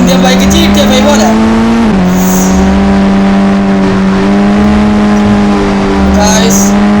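A car engine in the mobile driving game Indian Bike drones loudly and steadily, its pitch dipping briefly as it shifts, with faint tire and skid noises alongside.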